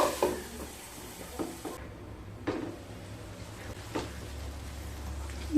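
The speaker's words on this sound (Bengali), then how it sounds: "ঝিঙেগুলো থেকে কিছুটা জল বেরিয়ে গেছে, একটু আবারও নেড়ে নিচ্ছি" Ridge gourd that has released some water is stirred in a pan, with a few quiet, sharp scrapes and clinks of the spoon spread across a soft, low cooking hiss.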